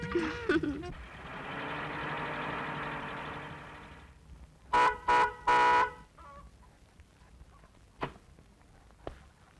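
A car horn honks in a few short loud blasts after a drawn-out engine drone, with scattered knocks and faint noises following.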